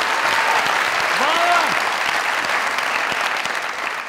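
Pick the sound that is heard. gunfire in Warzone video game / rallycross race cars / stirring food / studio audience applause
studio audience applause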